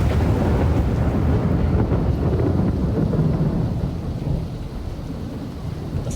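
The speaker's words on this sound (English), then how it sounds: "The thunderclouds rumble," Thunder rumbles loudly and continuously through a rainy-season storm, with heavy rain and wind buffeting the microphone, the roar easing slightly toward the end.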